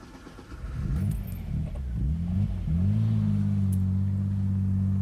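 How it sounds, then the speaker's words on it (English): A 1982 Maserati Biturbo engine rumbles low and steady, revving briefly a few times before settling into a smooth, loud drone as the car rolls slowly. "Now I'm gonna drive this Maserati, but very slowly."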